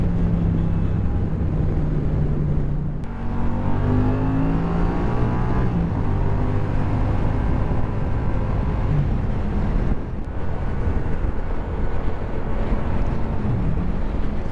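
A 2016 Yamaha FZ-07 motorcycle engine under way while riding, a steady engine drone with rising and falling revs through gear changes, heavily mixed with rushing wind buffeting against the microphone.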